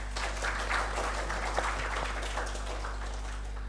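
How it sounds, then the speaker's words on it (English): Audience applause at an academic seminar, a steady moderate patter of many hands clapping over a low constant hum from the room's sound system. "Big round of applause, everyone."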